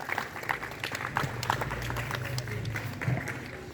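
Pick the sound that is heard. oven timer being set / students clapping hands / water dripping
students clapping hands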